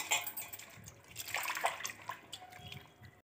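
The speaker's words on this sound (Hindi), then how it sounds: "बड़े बर्तन में पलट लिया, अब हम इसमें पानी डालेंगे" Water poured over soaked urad dal in a large vessel for washing, heard as irregular splashing and trickling bursts, fairly faint and close, with no talk.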